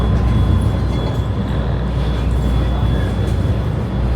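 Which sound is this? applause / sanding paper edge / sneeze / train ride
train ride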